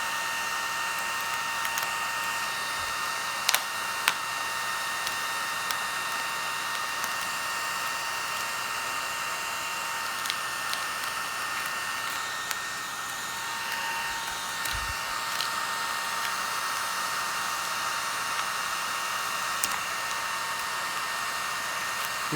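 A heat gun blows a constant, loud, steady whooshing hum while warming vinyl wrap over car chrome trim, running alone without pauses for the whole stretch, with a few faint clicks.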